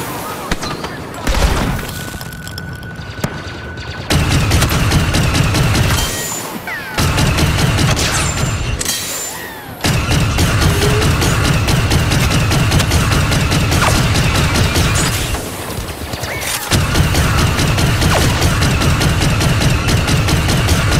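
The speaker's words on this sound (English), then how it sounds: "Grenade deployed!" A grenade blast among sustained gunfire in a rebellion battle: dense, loud rapid shooting and booming bursts continue almost throughout, broken by a few brief lulls.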